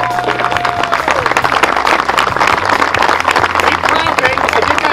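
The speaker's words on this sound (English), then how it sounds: "How about a warm round of applause for our two guests" Loud, continuous audience applause for two guests at an outdoor golf clinic at Eagle Creek. Thick, steady clapping runs under someone talking over a microphone.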